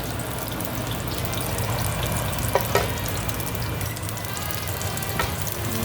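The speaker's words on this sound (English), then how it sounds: "let's cook garlic to make it smell good first." Garlic frying in a pan gives a steady close sizzle throughout, with a couple of brief clinks partway and a fan humming underneath.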